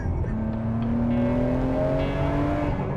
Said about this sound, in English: just even half throttle is like engage warp drive